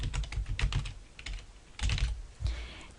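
A name is typed on a computer keyboard in short clusters of soft, close key clicks separated by brief pauses, heard alone without talking.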